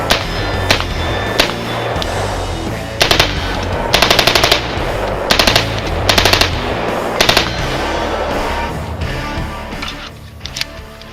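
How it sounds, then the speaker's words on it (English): Loud rifle fire from a POF USA P416 in rapid bursts and single shots, each crack followed by the ringing of shootsteel.com steel targets, with heavy muzzle blast dominating throughout. "You can hear that steel from the shootsteel.com targets resonating really well, even though the muzzle noise is really, really loud on this."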